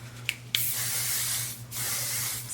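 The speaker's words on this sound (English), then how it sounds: "It's the thermal flat iron spray." Rusk thermal flat iron spray misted onto hair, a couple of quick pump clicks followed by a long steady hiss, a short pause, then another sustained spray, close and clear with no talking.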